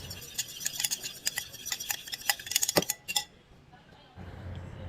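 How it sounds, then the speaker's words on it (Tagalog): A utensil stirs vanilla extract into low carb pancake batter in a bowl, giving quick light clinks and ticks against the side for about three seconds before dropping to a soft hush. "Halu-haluin lamang ito sa loob ng 15 seconds."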